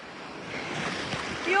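Sea waves rolling onto a sandy beach, a steady rushing surf with some wind noise that swells slightly near the end, heard close and fairly loud.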